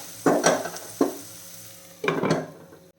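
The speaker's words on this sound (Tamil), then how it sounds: "லோ ஃப்ளேமில் தான் நான் வச்சுருக்கிறேன் சீக்கிரமாக வதங்கிடும்" Clove beans sautéing in a pan over a low flame, with a soft steady sizzle broken by a few quick stirring scrapes, close and fairly quiet.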